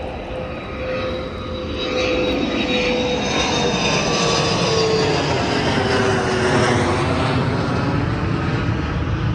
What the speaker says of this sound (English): another jet coming through